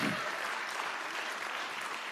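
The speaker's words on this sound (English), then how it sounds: "let's give them some applause," An audience applauds at a live fisher poetry event, a full, even burst of many hands clapping throughout, heard from a little distance with no one speaking.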